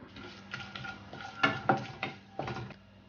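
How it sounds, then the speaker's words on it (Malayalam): Whole spices, bay leaf, cinnamon, fennel seeds and half a star anise, sizzle gently in hot oil in a pan. A few louder stirring scrapes and clinks of the utensil come through at an uneven pace, with no talking. "ഇനി അത് എണ്ണയിൽ നന്നായിട്ടൊന്ന് സോട്ട് ചെയ്തെടുക്കാം."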